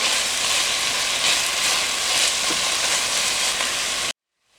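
Onions cook on low to medium-low heat in a pot on the stove, giving a steady, soft broadband sizzle that runs for about four seconds before cutting off.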